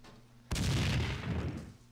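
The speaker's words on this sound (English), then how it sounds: "That's more explosions." Single explosion in the action game Max Payne 2, a sudden loud boom that bursts in and rolls off into a sustained rumble over about a second and a half, alone without talk.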